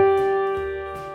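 Two musical notes sound together as a harmonic interval, held steadily as one rich, sustained chord-like tone that fades slightly over about a second, with no other sounds around it.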